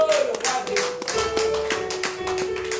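A church congregation claps in steady rhythm during worship, the sharp, evenly spaced claps layered over sustained musical tones and continuing throughout.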